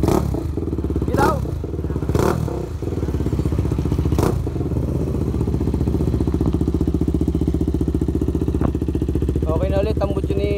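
A motorcycle fitted with a JBC Racing open muffler runs loudly and steadily throughout, with a few sharp blips early on over a heavy, continuous exhaust drone.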